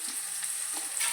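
Onions and cashews sautéing in a pan, with a brief, steady, close sizzle and faint stirring under it.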